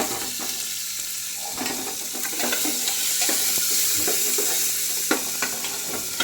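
Finely chopped long-sliced onion sautéing in a pan for Solapuri masala rice, a steady close sizzle with scattered scrapes and clicks of stirring throughout, no voices.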